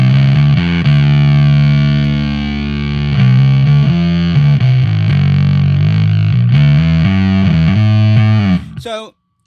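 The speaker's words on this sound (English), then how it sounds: "this just adds a little clipping, adds a little buzziness to when adding in that kind of the diode clipping" Diode clipping distortion from a breadboarded audio circuit gives a sustained buzzy, harmonically rich tone that shifts pitch across several held notes before cutting off abruptly near the end.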